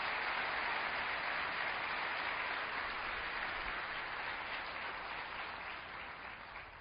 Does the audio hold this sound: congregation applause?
yes